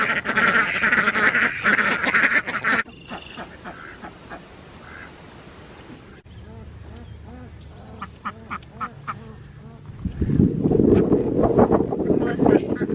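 Several ducks quack in short, nasal bursts, some close and some fainter, amid wind noise and rustling, with a voice speaking at the start.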